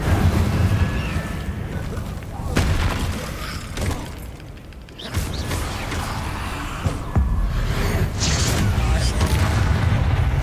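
Spell blasts from Confringo and Incendio cast in Hogwarts Legacy, a run of booming explosive bursts and crackling impacts over a dense rumbling game mix, with a brief lull midway before the loud blasts resume.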